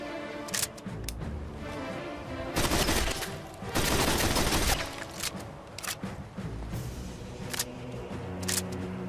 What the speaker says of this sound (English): Mark 41 Gyrojet heavy machine gun by Larissa, Monomingo, Navaro and Viciorus.